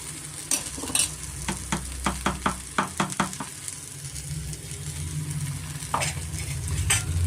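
Brinjal fry being stirred in a pan after ground spice powder is added, with a steady sizzle underneath and a run of quick, close scraping strokes in the first half, then a few more near the end.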